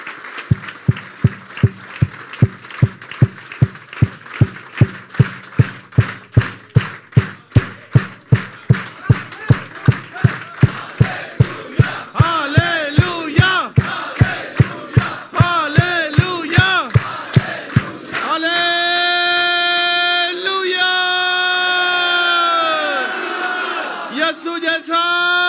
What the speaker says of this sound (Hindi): यीशु के जलाल के लिए जोरदार तालियां बजा दें